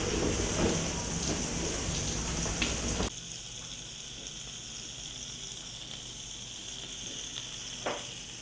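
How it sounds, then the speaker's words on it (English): Peaches grill in a hot pan with a steady, crackling sizzle like light rain, louder at first and then settling into a softer hiss, with a small clatter near the end. "So we've got our peaches here grilling."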